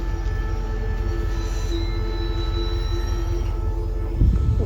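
Thai passenger train No. 532 rolls into Bua Yai Junction station steadily with high metallic wheel squeals ringing over a low rumble, ending with a heavier clunk near the close.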